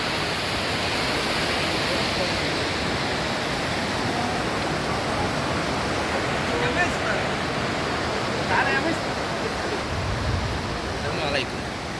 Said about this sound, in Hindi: ये आप देख सकते हैं पूरा ऊपर माउंटेन से पानी आ रहा है।